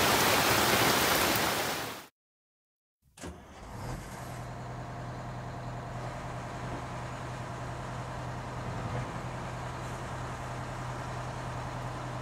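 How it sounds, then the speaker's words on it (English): A loud, dense rush of heavy rain pours for a couple of seconds, cuts off abruptly, then gives way to a steadier, quieter hum. "it's pouring down rain here, so we're quitting for the day."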